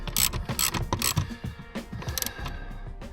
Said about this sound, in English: I need to go and get a 17mm socket and I'll tighten that up